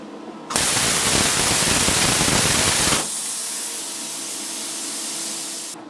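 An R-Tech P51D plasma cutter fires its gouging torch on steel flat bar, bursting into a loud, dense roaring hiss for a few seconds before dropping to a steadier, quieter hissing whoosh that cuts off near the end.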